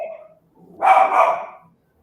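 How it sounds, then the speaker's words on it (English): A dog gives a single short, muffled bark-like call at mid distance, preceded by a brief faint tonal sound and then quiet. "Whose fucking dog is that?"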